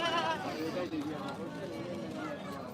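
Goats bleat at the busy Tungwali livestock market in Punjab, their wavering cries mixing with crowd chatter and someone talking over them.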